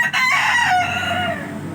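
A rooster crows once, loud and close, a rising then falling cry lasting under two seconds.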